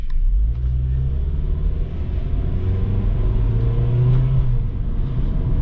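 A 2001 Honda CR-V engine pulls steadily under acceleration from inside the cabin, a smooth low rumble with rising tones that drop back at each gear shift, continuous and fairly loud.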